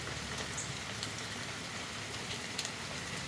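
Steady rain falls outdoors around a Honda Foreman 500 ATV, a constant dense hiss with faint scattered drops and no voices.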